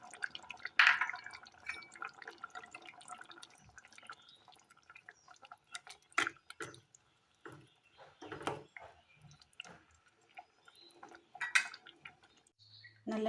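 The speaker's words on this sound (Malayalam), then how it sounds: "ഇനി ഇതിലേക്ക് ഒരു നാരങ്ങ പിഴിഞ്ഞെടുത്ത ജ്യൂസ് ഒഴിച്ച് കൊടുക്കാം." Lemon juice squeezed by hand drips into a simmering ash gourd curry in a quiet kitchen, a scattering of small, irregular drips and taps spread through, faint and close.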